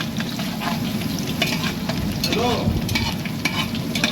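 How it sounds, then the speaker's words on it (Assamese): Crushed garlic frying with hot spices in a pan, a steady dense sizzle with occasional stirring scrapes throughout, close and fairly loud, no voices. "তাৰপিছত আমি দিম ক্ৰাছ কৰি লোৱা নহৰু। নহৰুখিনিও আমি লাইট ব্ৰাউন কৰি ল'ব লাগিব।"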